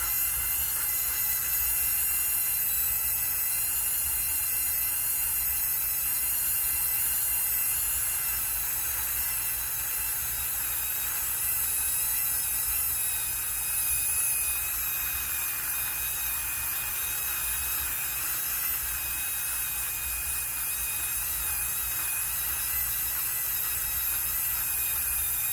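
Worn, fine sandpaper rubbing steadily over a polymer clay pendant in vertical strokes, a continuous close, hissing scratch with little variation and no speech.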